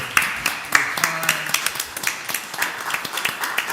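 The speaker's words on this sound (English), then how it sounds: "And I'm going to stand up and give you a round of applause." Clapping at a town council meeting, a handful of people giving sparse, uneven claps with individual hand strikes clearly separated, some voices murmuring underneath.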